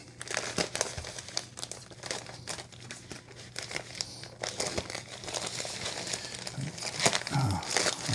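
Plastic and paper packaging around a Tactile Knife Co. Archer titanium-scaled flipper knife crinkles and crackles steadily as it is unwrapped up close, a dense continuous rustle with sharper crunchy spikes throughout.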